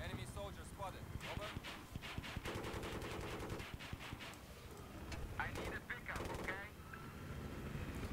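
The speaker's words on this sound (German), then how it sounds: "So, jetzt darfst du schießen." Rapid automatic gunfire bursts from the video game Battlefield 3 on the Caspian Border map, rattling loudly in repeated volleys with explosions, while players talk over the action.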